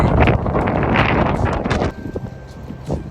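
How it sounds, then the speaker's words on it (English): Strong gusts roar into the microphone of a cyclist riding a test loop, loud and buffeting for nearly two seconds before easing to lighter rustling, with a brief voice near the end. "God, it's windy."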